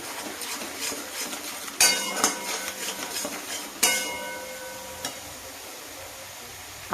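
A spoon stirs ground coriander and cumin frying in a pan for a chicken curry, giving a steady close scraping with a few sharper metallic clanks, and no voices.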